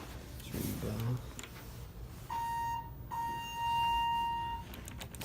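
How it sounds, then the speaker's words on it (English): A ThyssenKrupp elevator alarm bell rings inside the car, a steady electronic tone sounding in two bursts of about a second each, after muffled handling noise and with a voice heard briefly before it. "Ring the bell."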